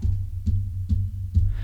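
Four muffled, low knocks on a table picked up by a microphone repeat at an even rhythm, each a soft thud close by, with a faint hum in between.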